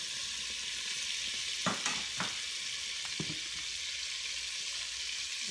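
Frozen butter sizzling in a preheated Ninja on high sear mode, a steady close hiss and frying crackle with a few sharper pops and spits, and no voices.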